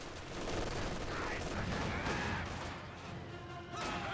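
Battle gunfire from Company of Heroes 2, a dense continuous rattle of rifle and machine-gun shots with distant explosions, steady and mid-level throughout, with faint voices underneath.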